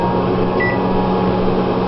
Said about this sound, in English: Stick it in the microwave. I'm going to put it on 3 minutes